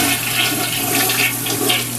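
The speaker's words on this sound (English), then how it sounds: "so let's try and flush it." A toilet flushing just after its fill valve was replaced, a loud, steady rush of water close by that fills the whole moment with no pause.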